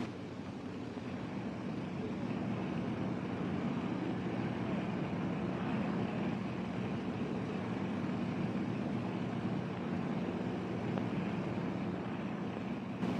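Fairey Albacore torpedo bomber on a Royal Navy carrier flight deck in 1942, its piston engine giving a steady, loud, broadband roar that holds level throughout with no gaps.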